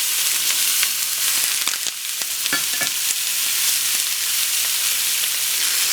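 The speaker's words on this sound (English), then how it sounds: "Putting this chicken in skin side down" Chicken, dried and seasoned with salt and pepper, sears skin side down in an overly hot pan, giving a loud, steady sizzle and crackle with scattered sharp pops, close up and with no talking.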